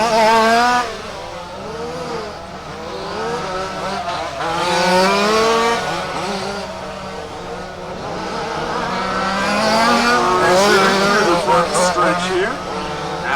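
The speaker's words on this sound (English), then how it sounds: "Our second place car crossing over the start finish line." Rally race cars on a raceway at Warm Springs, engines revving and rising in pitch as they pass at varying distances, with tire noise and a race announcer talking over much of it.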